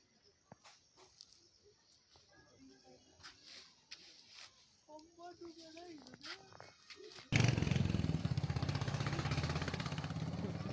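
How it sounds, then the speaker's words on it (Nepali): A motorbike roars past close by on a Darjeeling hill road, its loud engine note suddenly filling the scene after quieter chatter and voices. "एउटा बाइक गइहाल्यो।"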